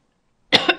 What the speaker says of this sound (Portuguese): não vou parar de tossir aqui